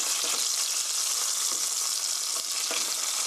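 Chicken steak fries in a pan with a steady, close, bright sizzle and faint crackling that continues without pause.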